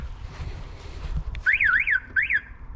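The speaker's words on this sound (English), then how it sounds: "maybe that's why the alarm isn't happy." The alarm on a Mercedes 300CE W124 coupé chirps out two close, loud warbling sweeps in quick succession after some wind rumble, with no talking.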